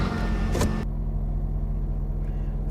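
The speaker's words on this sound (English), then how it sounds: "When you start the engine" A car engine starting: a loud, brief burst of cranking and firing, then an abrupt drop to a low, steady idle hum that continues to the end.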